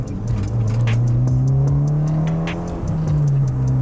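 A Mitsubishi EVO X engine hums close up while driving, its note climbing and settling as the car accelerates, with a steady in-cabin drone and no voices.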